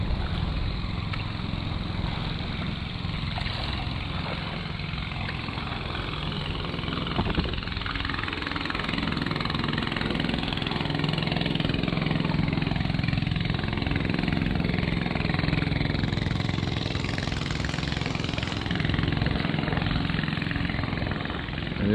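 A boat motor runs and idles steadily on the water off Koh Samui, Thailand, a continuous loud droning hum with wind and water noise mixed in.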